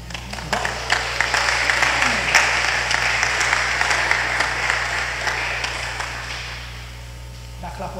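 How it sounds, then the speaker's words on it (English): A church congregation applauds warmly for several seconds during a service, a dense crowd of claps over a low electrical hum, fading out near the end. "Clap us for Jesus, eh?"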